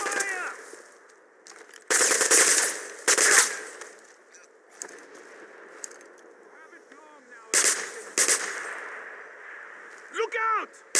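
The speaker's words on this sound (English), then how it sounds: "I need suppressing fire!" Bursts of machine-gun suppressing fire in a Wolfenstein downtown firefight, several loud clusters of rapid shots separated by quieter stretches, with voices calling out between bursts.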